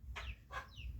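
A chicken clucking quietly a few times, short bright calls spaced apart over a low background hum, faint and somewhat distant.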